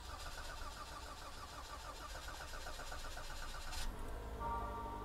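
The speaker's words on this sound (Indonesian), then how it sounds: "Coba kita nyalakan mesinnya sebentar." Toyota Avanza 1.5 engine cranking and catching near the end, then settling into a smooth idle close by, with no voices.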